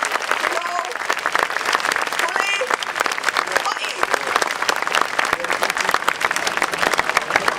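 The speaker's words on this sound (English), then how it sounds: "Thunderous applause." An audience breaks into thunderous applause, with dense, continuous clapping from a large crowd that holds at full strength for several seconds.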